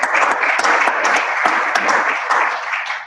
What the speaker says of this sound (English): Let's give a round of applause to all those.